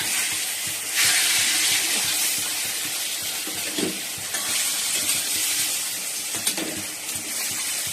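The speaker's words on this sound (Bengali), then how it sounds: "আর এদিকে মাছটাও ভেজে নিচ্ছি, মাছের ঝাল করবো।" Fish frying in a pan in a home kitchen, a steady close sizzle and hiss of hot oil running throughout with small spits and pops, no voices.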